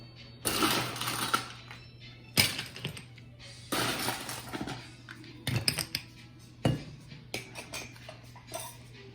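Ice cubes clatter and clink against a glass as whiskey nog made with Tennessee whiskey is stirred, in several sharp, close bursts of rattling separated by brief pauses.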